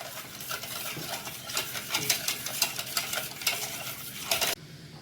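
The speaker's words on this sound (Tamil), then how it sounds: "இன்னும் கேஸில் பாத்திரத்தை வைக்க நல்லா கிண்டி கொடுத்துட்டே இருக்கணும்." Vanilla custard being stirred steadily in a pot on a gas stove, a continuous close scraping and swishing of the spoon against the pot with a faint sizzle underneath, ending abruptly near the end.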